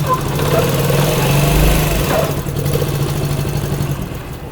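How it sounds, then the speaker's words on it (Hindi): A Honda CD70 motorcycle engine runs steadily in gear at close range, a loud continuous low thrum with a mild rise in intensity partway through, no voices over it. "एक दफ़ा बाइक को स्टार्ट करके इसका गियर लगा के ना क्लच चेक कर लेते हैं।"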